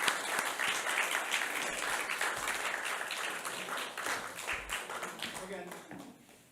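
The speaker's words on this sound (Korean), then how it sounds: "여러분 박수로 환영해 주시기 바랍니다" A seated audience at a humanities lecture in Gwangju applauds to welcome a Christian philosopher professor to the podium, with sustained, dense clapping that fills the room and slowly tapers off toward the end.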